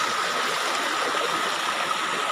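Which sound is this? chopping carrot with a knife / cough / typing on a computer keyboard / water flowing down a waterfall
water flowing down a waterfall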